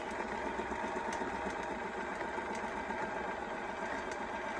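A Bernina 1030 sewing machine runs a straight stitch, a steady close mechanical whir with a fast even needle rhythm and faint periodic clicks throughout.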